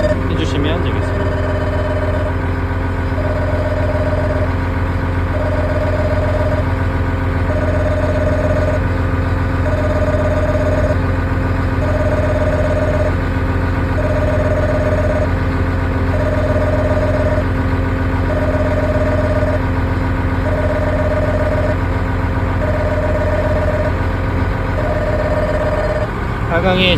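A machine's engine runs at a steady idle while its lift lowers, a continuous droning hum with a faint regular pulsing, unchanging and fairly loud throughout.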